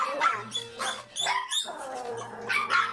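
Several dogs at a puppy mill bark and yip in short bursts close by, with overlapping higher whimpering calls and a steady low hum underneath.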